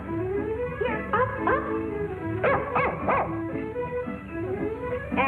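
A dog, Lassie, gives a run of short yips and barks mixed with whimpering whines, close and fairly loud, several bursts clustered in the middle.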